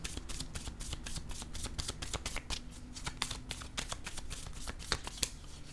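Tarot cards handled and laid down on a table, a steady run of quick papery slaps, shuffles and flicks close by, with no talk.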